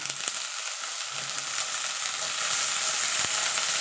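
Potatoes and eggplant fry together in oil in a pan, a steady bright crackling sizzle that grows slightly louder, with a couple of faint clicks and no voices.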